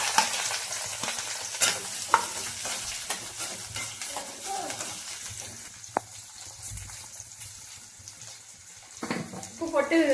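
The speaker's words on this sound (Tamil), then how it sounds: "போட்டு வதக்கிட்டோம்னா கொஞ்சம் சீக்கிரமா வதங்கிடும்" Onion, green chili and curry leaves sauté in a pan over a low flame, giving a steady soft sizzle with scraping stirs throughout, growing a little louder at the end.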